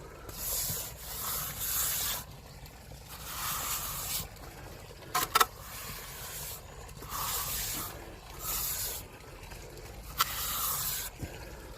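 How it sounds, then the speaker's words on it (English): A trowel smooths cement over a fake rock, making repeated broad scraping and rubbing strokes in a steady rhythm, with a few sharp knocks in between, close and moderately loud. "I'm smoothing it off with my trowel"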